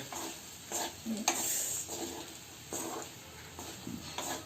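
Rice for chitranna stirred and fried in a pan, with repeated rhythmic scraping strokes and a soft sizzle, close and fairly quiet, with no voices.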